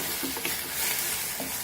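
Cooked roast beef being stirred in a hot pan for samosa filling, a soft steady sizzle with a few scraping stirs of the spoon, close and alone.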